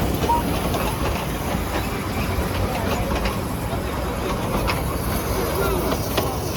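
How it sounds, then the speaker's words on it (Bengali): The Darjeeling toy train approaches in winter, a steady low rumble and rattle with faint hissing, heard nearby amid background voices. "ওই যে আসছে টয় ট্রেন।"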